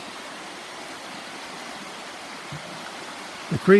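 Steady broadband rushing of a rain-swollen creek running nearby at Deep Creek campground, North Carolina, continuous and even throughout, with a brief faint knock near the end.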